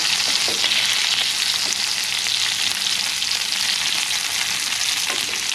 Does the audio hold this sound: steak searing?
yes